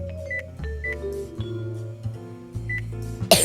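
A microwave oven running with a fork inside gives a steady low hum, with a few short beeps and tonal blips and a sharp crackling burst at the very end.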